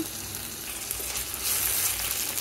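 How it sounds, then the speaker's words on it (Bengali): Ginger and garlic paste frying in a pan for a chicken curry with green chilies, a steady soft sizzle with light stirring scrapes, fairly quiet and close, swelling slightly toward the end, no voices. "আদা রসুনগুলোকে হালকা একটু ভেজে নেব"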